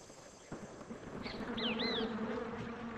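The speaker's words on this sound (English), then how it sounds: "These holes are for the eggs of the sand wasp." A sand wasp buzzes near its rainforest nest holes, a faint steady hum in a quiet outdoor setting with rising and falling whine-like tones partway through.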